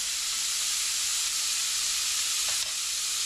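Bacon sizzling in a hot skillet with olive oil, a steady, loud, bright hiss of frying fat filling the whole stretch with little variation, and a faint clink or stir near the end.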